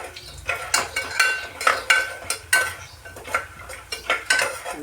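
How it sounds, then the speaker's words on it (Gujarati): Spiced food with salt and turmeric stirred in a pan at a Kathiyawadi farm kitchen, with about a dozen close, rhythmic scraping and clinking strokes of a utensil against metal over a faint sizzle, alone without voices. "જરીક હલાવી ઢાંકણું ઢાંક દેવાનું"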